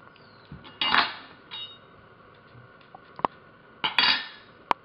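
A knife trims the ends off an onion on a cutting board, giving a few sharp clicks and scraping knocks spaced out over several seconds, close and fairly quiet, with nobody speaking.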